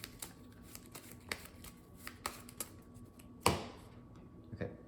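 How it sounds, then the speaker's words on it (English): Cards being shuffled back into a deck during a solo tabletop card game, soft quiet riffles and taps in short bursts with one sharper slap, close and alone. "Let's shuffle up the discard pile. Back to the deck."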